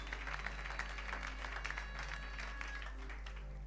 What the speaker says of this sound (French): Et nous acclamons pour la gloire de Dieu.